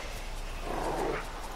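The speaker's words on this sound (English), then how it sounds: "A dog." A dog barking in The Witcher III: Wild Hunt video game, a single brief, muffled woof over low background game ambience.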